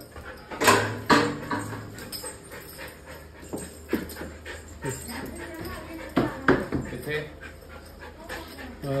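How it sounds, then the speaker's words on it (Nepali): An excited dog being taken out for a walk pants, whimpers and scrabbles in short bursts at close range, with people talking around it. "कुकुर पनि कति एक्साइटेड छ"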